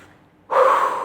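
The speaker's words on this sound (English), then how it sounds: "Take a deep breath." One deep, sharp breath is drawn in after a quiet moment. The inhale is close and loud, with no talk.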